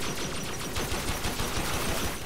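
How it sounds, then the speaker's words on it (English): Dense, rapid enemy gunfire in the video game Warframe rattles continuously at close range, loud and unbroken. "Oh, it's shooting me."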